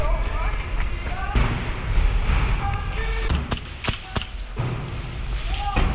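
Loud thumps and bangs of Reapers hitting a wall with axes during an airsoft milsim city game, irregular and overlapping, with voices talking in the background.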